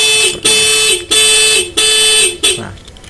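A keyless alarm fitted to a motorcycle sounds four loud, close electronic tones, each about half a second long with short gaps between them, then stops.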